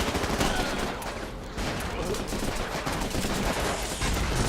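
Dense gunfire and a bursting firefight in the video game Running with Rifles, continuous and loud throughout with overlapping shots.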